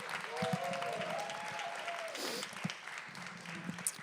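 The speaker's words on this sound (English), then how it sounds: "Round of applause for Mickey Ali, please" Audience applause for poet Mickey Ali at an online live poetry jam, a moderate, fairly distant clatter of clapping mixed with a sliding tonal whine and a few sharp individual claps and knocks.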